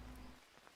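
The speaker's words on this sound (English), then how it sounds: "listen to that sound, the rain on the roof" Rain drums on a roof in the jungle survival game Green Hell, a steady close patter that holds throughout this brief moment with no voices.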